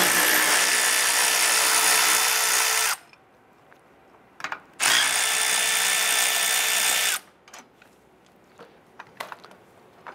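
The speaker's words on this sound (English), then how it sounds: "We use our 10mm socket. We're going to remove the bolt here" Power tool whirring in two sustained bursts of about three and two seconds while a 10mm socket backs a bolt off a Toyota Camry battery J-bolt mount, followed by quieter clicks and handling noises.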